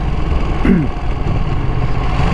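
A Ducati Panigale V2 with its V-twin engine and standard exhaust runs at a steady, loud, close idle with a low throb throughout, marked by a brief higher-pitched chirp.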